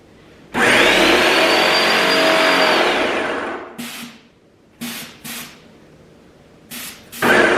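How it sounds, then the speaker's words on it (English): A Graco Magnum Project Painter Plus airless paint sprayer: a loud, steady hissing spray of paint runs for about three seconds, then cuts to short bursts of hiss separated by quieter gaps with mechanical hum. "I'm going to turn it back on until I get some spray out of my gun"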